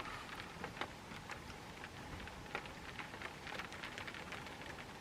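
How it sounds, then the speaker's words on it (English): Steady, quiet rain patters on a truck camper, a soft continuous hiss broken by scattered small drop taps. "Yeah, rain."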